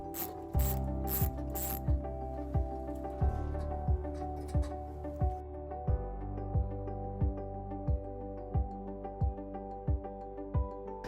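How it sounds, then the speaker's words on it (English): A hand ratchet loosens 8mm bolts on the front bumper fascia of a 2021 Jeep Wrangler, producing a long run of evenly spaced, crisp clicks close up, with brief rattling near the start and no talk. "we're going to start by removing these two 8mm bolts."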